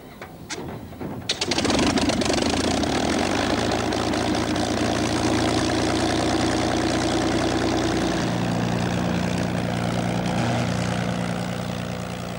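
A rare two-seater conversion of a Supermarine Spitfire, named Blue Peter, fires up after a few faint clicks, its engine catching abruptly and settling into a loud, close, steady idle with a deep throbbing drone that shifts pitch slightly partway through.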